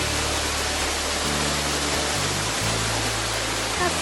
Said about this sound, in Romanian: Suntem la cascada Trei Caneli, am ajuns și aici, iar asta este